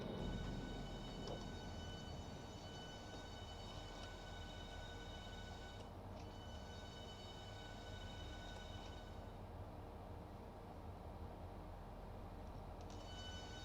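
A video-game high-speed train between London and Faversham rumbles and whines steadily as it slows to a stop, with a high tonal hum cutting in and out over the low drone.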